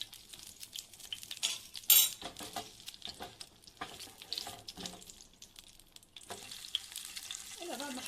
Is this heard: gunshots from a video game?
no